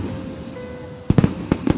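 New Year's Eve fireworks over Krakow, several sharp loud bangs bursting in quick succession after a quieter stretch of background hum, with some crackle between the reports.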